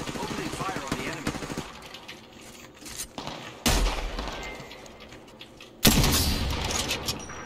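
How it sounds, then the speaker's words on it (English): Gunfire in the Apex Legends battle royale game, bursts of rapid automatic shots and a few sharp heavy blasts, loud and close, with in-game voice lines heard between the volleys. "Opening fire on the enemy."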